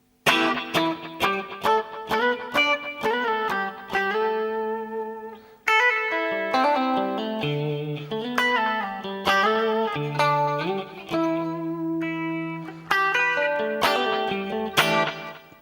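An electric guitar plays a bright melody in octaves, with short stabbed phrases and sustained notes, a touch of effects coloring the tone.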